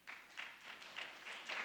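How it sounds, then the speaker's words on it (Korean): A church congregation at a Korean New Year's Eve service applauds, steady pulsing clapping that sounds somewhat distant and fairly faint. "우리 박수 한번 하겠습니다."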